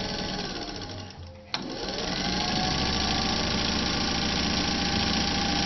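A Singer 201 gear-drive sewing machine with a rotary hook and no belt runs steadily at high speed, a loud, continuous mechanical whir with a fine rapid clatter. It starts up after a brief quieter lull and then holds an even pace.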